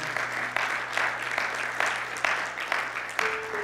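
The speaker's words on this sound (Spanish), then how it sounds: "dale el aplauso de alabanza al Señor" A church congregation gives sustained applause of praise, a broad wash of many hands clapping evenly throughout, with a faint tone rising near the end.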